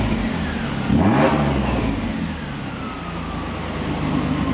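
A supercharged Toyota Hilux engine revs up once and settles, a rising whine sliding over the steady engine rumble, heard close and fairly loud with no talk.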